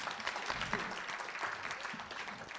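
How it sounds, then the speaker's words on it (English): A seated audience applauds the panelists at the close of a panel discussion, producing a moderate, steady patter of clapping that continues throughout. "Let's clap for the panelists"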